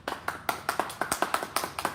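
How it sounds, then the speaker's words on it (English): Close, steady clapping from one or a few pairs of hands during a small live evening show, crisp individual claps at a regular quick rhythm with no talk. "let's hear those applause."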